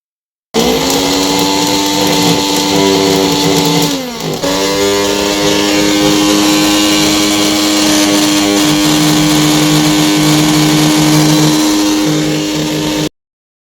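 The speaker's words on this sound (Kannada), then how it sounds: "ಇದನ್ನ ಆನ್ ಮಾಡಿ ನೋಡೋಣ ಮೋಟರ್ ಹೇಗೆ ವರ್ಕ್ ಆಗುತ್ತೆ" A Prestige Nutrimix 2.0 mixer grinder motor whirs loudly and steadily at high speed, dipping briefly around the middle before spinning back up, then cutting off abruptly.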